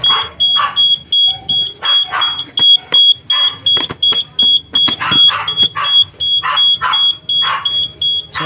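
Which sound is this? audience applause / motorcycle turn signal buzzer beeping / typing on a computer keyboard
motorcycle turn signal buzzer beeping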